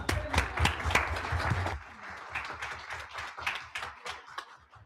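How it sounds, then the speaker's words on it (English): Audience clapping at a school board meeting, a burst of hands that thins out after a couple of seconds into scattered individual claps with some low murmuring. "We're going to clap for her really quick."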